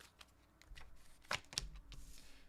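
Tarot cards being shuffled by hand, a few soft riffling bursts and papery slaps, quiet and close, with no talking.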